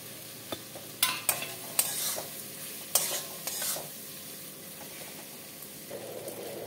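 Potatoes and fried drumstick vegetable (moringa pods) stirred into hot spiced oil for a fish curry, bursts of crackling sizzle with scraping clatters, then a steady fry hissing on; no voices.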